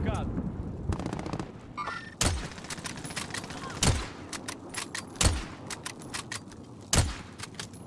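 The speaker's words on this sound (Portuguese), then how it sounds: "Os desgraçados estão atirando em mim." Video game gunfire: rapid bursts of automatic shots and single cracks repeat throughout, loud and close, with heavy booming reports every second or so, while someone talks over the action.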